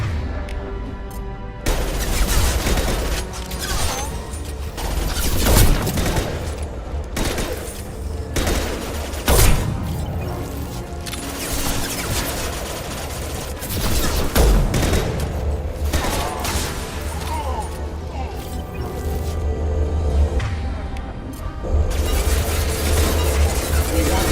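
Rapid bursts of gunfire and explosive booms from a Mass Effect 2 firefight, dense and continuous, with sharp impacts and a shattering crash mixed in under game music and occasional voices.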